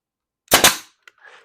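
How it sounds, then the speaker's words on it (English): A brad nailer fires two sharp, loud cracks in quick succession as it drives brads into a wooden box over a post end, followed by a faint click and a soft rustle. "So now I'm just going to shoot a couple some brads across here."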